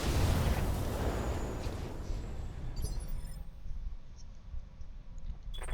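Heavy booms and bursts from mech weapons firing in the Battletech video game, a loud rumbling blast that decays into scattered crackling pops and clicks.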